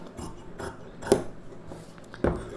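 Scissors cutting blouse fabric along a marked line for tailoring: a few crisp snips in an uneven rhythm, close and moderately quiet, with no talking.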